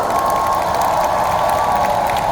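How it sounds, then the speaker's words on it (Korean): Large crowd applauding a pastor at a conference, a steady wash of clapping mixed with crowd noise, loud and continuous. "우리 람 목사님을 위해서 다시 한번 뜨거운 박수를 보내주시면 좋겠습니다"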